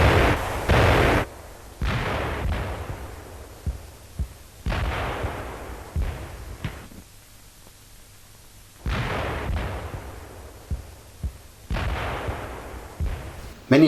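Waffen SS unit firing on Soviet mechanized troops in archival war footage: repeated loud gunshots and heavy artillery booms in irregular bursts, some close and sharp, others rolling and echoing, separated by quieter gaps.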